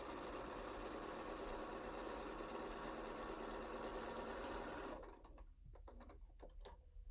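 A sewing machine stitches a seam on a pillow, a steady close mechanical whir for about five seconds, then slowing into a few softer separate clicks and knocks as it stops.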